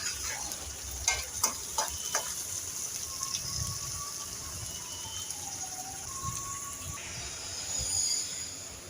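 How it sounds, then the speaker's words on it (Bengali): Chopped onions frying in a pan of hot oil with whole spices for chicken curry, a steady soft sizzle with a few sharp stirring knocks early on and a faint high whistle running through. "পেঁয়াজ ভাজা হয়ে গেছে"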